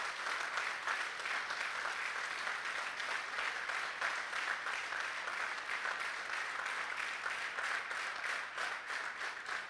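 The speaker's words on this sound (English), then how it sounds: "give a resounding applause to him," A crowd at a district governor's installation ceremony applauds continuously, the clapping sounding soft and somewhat distant but sustained for about ten seconds.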